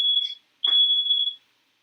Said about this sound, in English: My alarm just went off, my fire alarm.